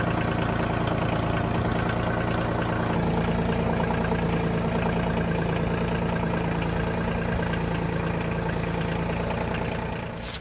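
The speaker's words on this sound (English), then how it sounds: "We're going to go ahead and get it started, and then we're going to give it a test run and see how it drives." A Kioti CX2510 compact tractor engine runs after starting, a loud, steady diesel idle with a low knocking chug held evenly up close, easing off at the very end.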